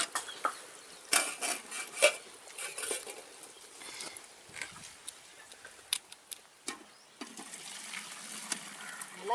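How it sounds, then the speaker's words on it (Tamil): Rasam of neem flowers and tomato is strained in a home kitchen, with faint liquid patter and scattered light clinks of utensils against a vessel, quiet and intermittent. "இப்போ வடிகட்ட போகிறேன்."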